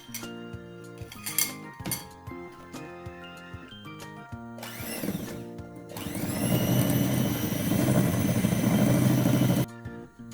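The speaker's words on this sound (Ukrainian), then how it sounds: "Гарно все перемішуємо, збиваємо міксером нас вийде гарна однорідна маса." Clinking of utensils against a bowl, then an electric hand mixer buzzes steadily for several seconds, whisking liquid cake batter before stopping abruptly.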